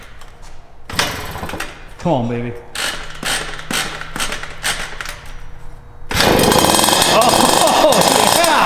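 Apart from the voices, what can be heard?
Yamaha YXZ engine starting with Italian carburetors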